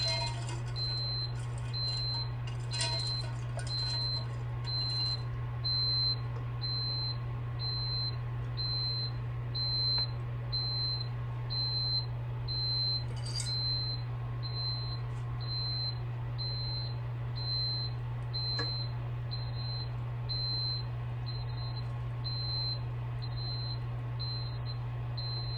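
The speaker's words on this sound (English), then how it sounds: "So you have to bear with the beeping, and it won't stop until it's cooled down a bit." A faint, high electronic beep repeats steadily at short even intervals over a constant low hum, continuing throughout, from an overheated appliance while making candied fruit.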